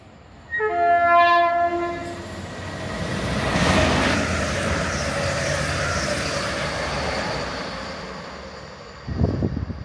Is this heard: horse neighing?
no